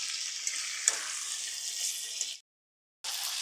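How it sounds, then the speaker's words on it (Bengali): Meat frying for biryani in a pot gives a steady, close hiss and crackle with occasional stirring knocks, then breaks off into a short silence before resuming. "বাকি মাংসগুলো আমি একইভাবে ভেজে নিচ্ছি।"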